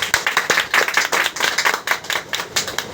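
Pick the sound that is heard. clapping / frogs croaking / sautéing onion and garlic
clapping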